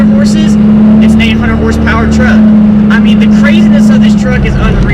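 An 800-horsepower 1995 Dodge Ram 2500 with a 12-valve Cummins diesel holds a loud, steady low engine drone close by while someone talks over it throughout.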